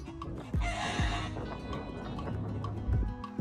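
Chickens perched high on the branches of a tall tree cluck and call, several short fowl sounds at moderate distance over a steady outdoor background.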